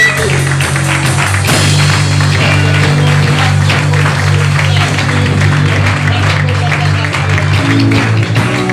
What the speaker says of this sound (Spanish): Un aplauso para Cristo Jesús